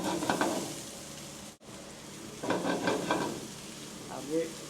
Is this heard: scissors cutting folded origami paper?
no